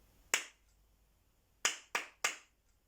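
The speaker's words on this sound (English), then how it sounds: "See which rhythm I clap." A music teacher claps a four-beat rhythm containing a crotchet rest during a body percussion lesson: one sharp, close clap, a silent gap, then three evenly spaced claps in quick succession in an otherwise quiet room.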